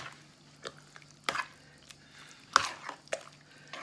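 A utensil stirs a cold soup in a bowl, giving scattered wet squishes and soft clinks, a few sharper splashy taps among quieter stretches, close by and without talk.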